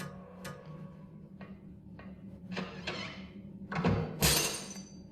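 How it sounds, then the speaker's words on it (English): Glass breaks and shatters somewhere in another room in the Silent Hill video game: scattered sharp cracks and thunks build to a louder burst of shattering near the end, set against a low, steady ambient hum. "there's just this noise that sounds like glass breaking, possibly going on in another room"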